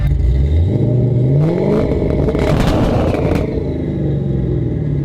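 A V8 Audi S6 with a DSG gearbox revs hard and accelerates, its engine roaring loud and close with rising pitch sweeps and a rumbling, clattering exhaust throughout.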